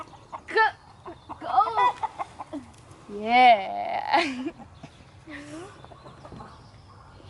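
Chickens on a farm cluck and squawk in short bursts, close and loud, with people speaking briefly between the calls.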